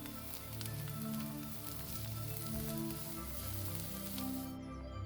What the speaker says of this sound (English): Add it to the onion and fry for a couple of minutes until it becomes softer.